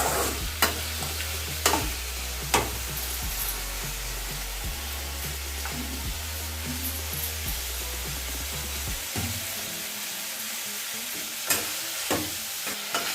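Capsicum cooking down in oil for a Telugu capsicum masala curry, a constant close sizzle broken by repeated sharp clicks and scrapes from stirring, with no voices.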